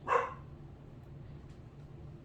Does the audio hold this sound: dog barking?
yes